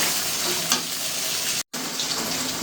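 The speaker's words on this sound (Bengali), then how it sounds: "এখন এই মশলাগুলো বেশ কিছুক্ষণ কষিয়ে নিবো" Blended spice paste for chicken curry fries in a pan with a constant close hiss and sizzle, a faint stir near the start and a brief total dropout midway.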